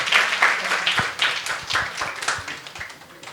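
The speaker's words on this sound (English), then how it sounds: "let's give a huge round of applause for our panelists" An audience claps for the panelists at the close of a women makers tech celebration, a small, close, uneven spatter of hand claps that gradually thins out.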